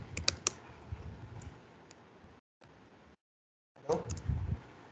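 Computer keyboard keys clatter in quick irregular bursts as code is typed, close and moderately loud, with brief pauses and two short stretches of silence before the tapping resumes.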